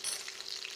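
Meatballs of mince frying in a pan, a steady close sizzle with fine crackle that runs evenly through the short moment, no voices.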